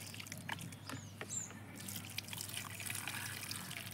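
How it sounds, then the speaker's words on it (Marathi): Water is poured and trickles onto kitchen-waste compost, a soft, faint splashing and dribbling that stays steady, close by, with no talk. "खालीपर्यंत पाणी घालायचं म्हणजे आपलं खत कुजण्यास मदत होतेच."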